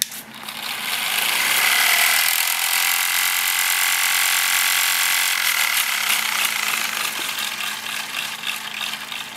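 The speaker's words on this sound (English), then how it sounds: "This is what happens if you spin a Lego wheel at very high speeds." A Lego motor gear train spins a Lego wheel at very high speed, giving a loud, steady, high-pitched mechanical whine and whir that rises quickly and holds, with faint rattling toward the end.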